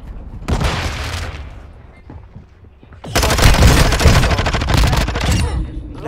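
A burst of gunfire rattles out in Call of Duty, then dense, loud sustained automatic fire and booms follow after a brief lull, close and intense with no talking.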